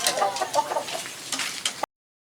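Chickens clucking in a village backyard coop kept for home eating, a busy overlapping flock of short clucks and calls close by for about two seconds before cutting off.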